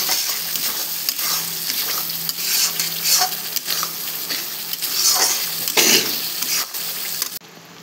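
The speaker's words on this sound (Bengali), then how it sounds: "জল দিয়ে হালকা হালকা করে কষাবো।" Spice paste for egg biryani being stir-fried with a splash of water, a close, continuous wet sizzle with scraping, stirring strokes and soft bubbling, no voices.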